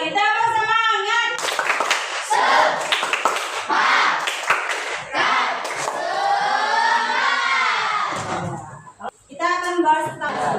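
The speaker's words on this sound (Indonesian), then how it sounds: "Lagi tepuk semangat" Children in a classroom clap in a quick rhythmic pattern as a group, the claps mixing with cheering and chanted voices, then fading as talking continues.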